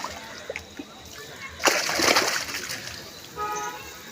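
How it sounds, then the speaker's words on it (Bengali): Fish jumping and splashing in a fishing pond, a burst of water splashes in the middle of the clip amid outdoor background noise, with a distant horn-like tone near the end. "মাছগুলো বড্ড লাফালাফি করছে"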